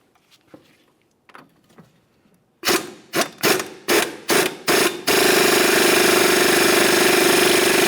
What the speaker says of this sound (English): remove the lower mounting nut and mounting bolt